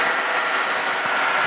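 A 2008 Chevrolet Avalanche's 5.3-liter V8 runs at a steady idle, a close, even engine drone with no voices over it.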